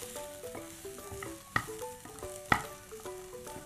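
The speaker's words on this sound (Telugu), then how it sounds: "ఇప్పుడు నెక్స్ట్ దీంట్లో ఆనియన్స్ వేసేసుకుందాం" Onions sizzle as they fry in a pan over steady tonal background music, with two sharp metallic clangs standing out.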